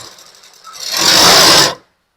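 A sewing machine stitches a blouse sleeve in one short, loud, close run that speeds up and then stops abruptly.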